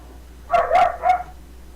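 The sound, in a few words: dogs barking at each other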